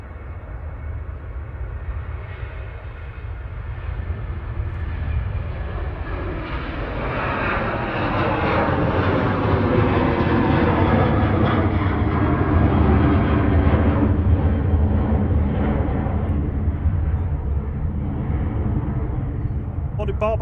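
Jet airliner 9H-VUN on its takeoff roll at Manchester Airport, bound for Corfu: a broad engine roar swells from moderate to loud and near around the midpoint, then holds as a sustained rumble, with a voice talking faintly over it.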